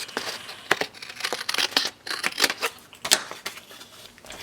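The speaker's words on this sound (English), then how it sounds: "Let me do it with my scissors." Paper being cut with scissors for a small scrapbook album, quiet close crisp snips and crinkles in an uneven rhythm over about four seconds, with no talking.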